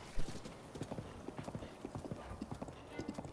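Hooves of a horse ridden in Breath of the Wild clip-clop in a steady, fairly close rhythm of repeated hoof strikes, with a faint voice talking over them.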